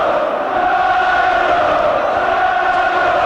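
A boxing arena crowd roaring for Nigel Benn, a dense, continuous wash of cheering and shouting that stays loud and even throughout.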